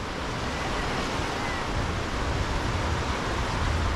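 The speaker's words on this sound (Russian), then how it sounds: "Есть волны, есть обновление воды." Sea waves on Chaweng Beach, Samui, Thailand: a continuous, dense wash of surf close by, steady and fairly loud throughout without distinct breaks, with no speech.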